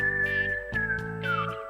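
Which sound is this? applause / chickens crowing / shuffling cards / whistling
whistling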